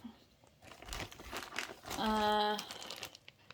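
Chunks of wax melt are pushed back into a plastic bag, making close, irregular crinkling and rustling with a louder crackling burst midway.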